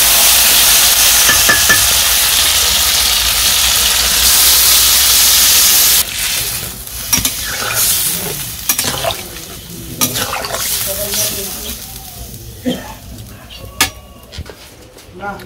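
Village-style chicken curry in a pot: a loud, steady sizzle and hiss of frying in oil for several seconds, then it drops away into scattered clanks and scrapes of stirring over a lower simmer.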